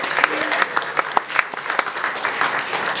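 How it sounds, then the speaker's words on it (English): A comedy club audience gives a lively round of applause, with sharp individual claps and some cheering voices mixed into the crowd noise. "Give yourselves a round of applause for coming out of here"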